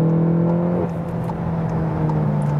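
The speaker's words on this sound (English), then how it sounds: "When I leave the throttle, then we also get nice sounds exhaust." A Volkswagen Golf GTI Clubsport's 265 hp engine drones steadily on the Autobahn, its tone dropping as the throttle lifts, followed by a rough, rumbling exhaust burble with faint crackles.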